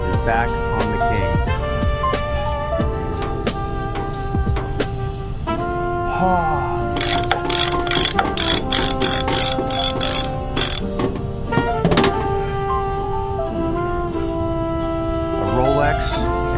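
Ratchet wrench doing the final tightening on a burned supercar rebuild, with repeated sharp clicking bursts and metallic ticks up close over a busy background of mechanical clatter and tonal hums, and speech occurring in the clip.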